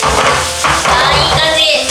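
Fast knife chopping on a cutting board while mincing food for chicken rice, a dense run of close, steady thuds and taps lasting the whole moment.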